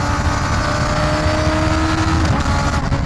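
A Kawasaki ZX6R motorcycle engine running with a steady, continuous drone that holds at an even, fairly loud level without clear revs or pauses.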